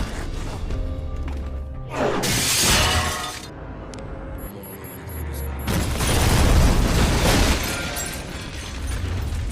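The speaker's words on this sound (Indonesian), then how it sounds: "Ia juga meledakkan ruang kerja Shiro dengan sebuah bom." A bomb blows up an office in a Jet Li action film, with heavy booming blasts and shattering debris in two loud bursts, sustained rumble and crackle between them.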